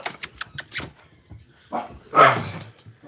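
Puppies let out a quick series of sharp, high yips and barks indoors, close and clear. Brief bursts come in rapid succession, followed by a longer, louder bark near the end.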